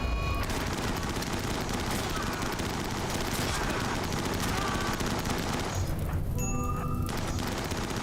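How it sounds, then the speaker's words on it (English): Auto inferno turrets in the RimWorld video game, with Helldivers 2 content, firing in a dense, continuous roar of rapid bursts and blasts, loud and unbroken across the whole stretch, with a brief thinning near the end. "Auto Inferno turrets."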